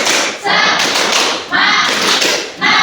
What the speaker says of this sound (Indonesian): Lagi sekali lagi, tepuk semangat.